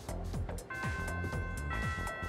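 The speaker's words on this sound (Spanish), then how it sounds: "Ah, ha sonado la primera campana." A school bell in the game Persona 3 Reload rings as a sustained, chiming electronic tone that enters partway through and holds under soft background game sounds.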